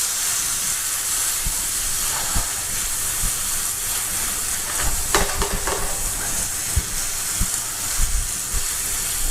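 Prawns sizzle in butter with garlic and mustard in a frying pan, hissing steadily, with occasional crackles and pops standing out from the constant frying noise.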